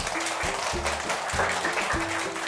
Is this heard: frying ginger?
no